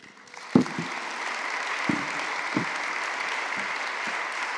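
Applause from an audience after a university science lecture on pandemic risks, a soft steady wash of clapping with a few louder nearby claps standing out early on.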